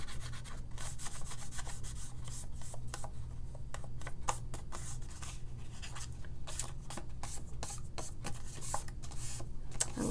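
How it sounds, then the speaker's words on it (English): Steady rubbing and wiping of excess ink or paint off a stamped card during Stampin' Up! Stars Are Shining card making, a continuous close scuffing texture with faint rhythmic strokes throughout, no talking. "all I'm going to do now is just wipe that excess off"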